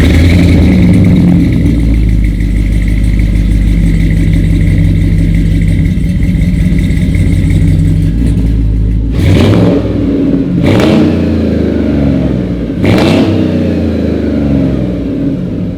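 A 1974 Chevrolet C10 pickup with an LT1 swap and 6L90 transmission idles loud and close through its exhaust in a steady deep rumble, then blips the throttle in three sharp revs.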